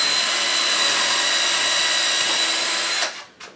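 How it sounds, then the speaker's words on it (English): A power drill makes pilot holes in the wooden bed of a 1955 Chevy truck, whining loudly and steadily for about three seconds before spinning down, followed by a short final burst. "So I'm just making pilot holes at this point."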